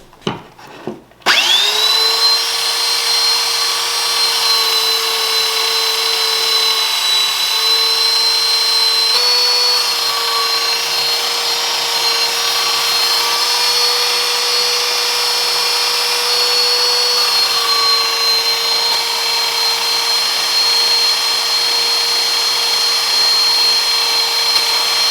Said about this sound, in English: that's about as good as I'm going to get it with the belt sander